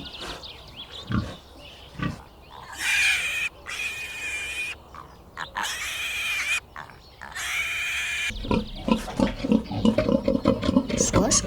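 Pigs grunt and squeal in long harsh bursts, close and loud, ending in a quick run of choppy grunts.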